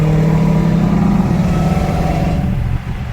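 Loud, close engine of a Dodge Charger SRT Hellcat with a blown engine, revving steadily under throttle with a rough, pulsing drone that eases off near the end.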